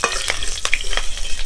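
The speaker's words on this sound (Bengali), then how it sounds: "ফোড়নটা একটু নাড়াচাড়া করে ভেজে নেব" Dry red chillies, green chillies and mustard seeds sizzling in hot mustard oil in a pan, with a spoon stirring and scraping through the tempering in a few quick strokes over a steady close crackle.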